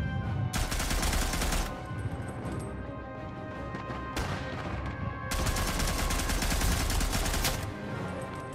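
Gunfire in the World War I video game Isonzo, long sustained bursts of rapid machine-gun fire from a Maxim gun, loud and close, broken by a short pause, with no talking.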